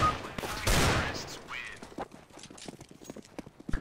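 Rapid bursts of gunfire in the shooter game CS:GO, a loud opening blast followed by a string of sharp, clustered shots of varying loudness.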